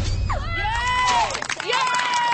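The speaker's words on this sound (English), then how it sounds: "give them a massive round of applause!" A studio audience cheers and shouts excitedly after a suspended straitjacket escape from a burning rope, high enthusiastic voices and crowd noise rising and falling over a couple of seconds.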